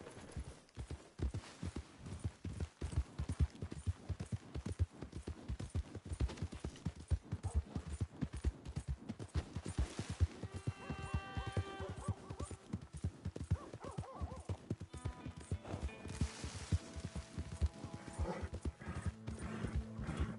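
Horse hooves clip-clopping in the video game Red Dead Redemption 2, a brisk steady gait of close, distinct hoof strikes running continuously, with faint whinnies and background game sounds mixed in.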